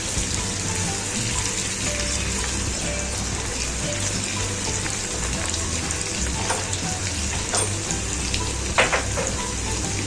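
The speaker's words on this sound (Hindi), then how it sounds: "प्याज के साथ हमने जीरे को अच्छे से कुक करना है कुछ सेकंड के लिए बस" Cumin seeds and chopped onions frying in a pan, a steady close sizzle running throughout with faint clinks of stirring and no voices.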